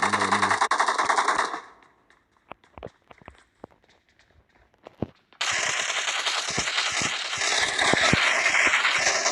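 Bursts of PUBG gunfire, rapid automatic fire that comes loud and sustained, then drops to scattered single shots and footsteps before a long, loud final volley.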